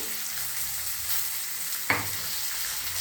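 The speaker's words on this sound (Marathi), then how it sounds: "आता हे सगळं हलवून घ्यायचं।" Mixed vegetables including carrot, seasoned with goda masala or coriander-cumin powder and salt, sizzle steadily in a pan, with one sharp scrape of a spoon stirring them partway through; no talking.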